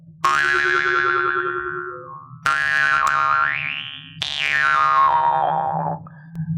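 Three twangy jaw harp strums, each buzzing tone sliding and warbling in pitch as it rings out, played close with no voices.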